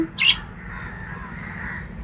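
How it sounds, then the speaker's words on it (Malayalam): A single close, harsh crow caw sounds once near the start, then only a low steady background hum remains. "ഇവിടെ കാക്കയല്ലാതെ വേറൊരു കിളി കരയുന്ന കേട്ടോ"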